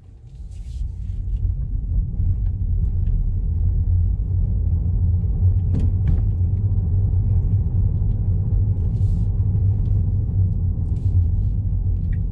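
Tesla Model 3 Long Range Dual Motor pulling away from a stop in the Netherlands, a steady low rumble of road and cabin noise with some wind, continuous and fairly close, no talking.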